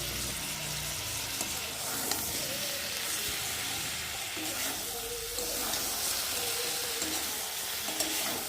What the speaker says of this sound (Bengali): কড়াটা ভীষণ গরম হয়ে ভালো করে মশলাটা একটু ভালো করে ভেজে নেবো